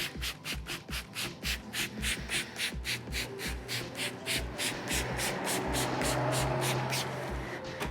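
A foggy car headlight, freshly sanded with 2000-grit paper, is washed by hand with steady rhythmic scrubbing strokes, close and fairly loud, about two per second, without talk.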